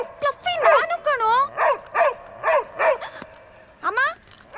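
A dog gives a run of short yelping barks and whimpers, close by and fairly loud, bursting out in quick rhythmic groups over several seconds.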